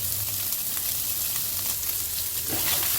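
Squash slices fry in hot oil in a home pan, a steady dense sizzle with faint crackles running throughout, close and continuous with no talking.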